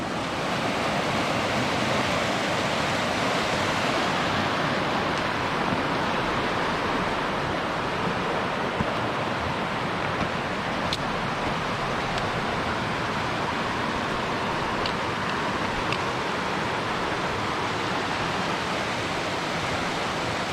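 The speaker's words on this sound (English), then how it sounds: "Alright, now we're really down by the river." Rushing water of the Cooper River on a hike to Cooper Lake in the Alpine Lakes Wilderness, a steady, loud, close broadband roar that holds unbroken throughout with no talking.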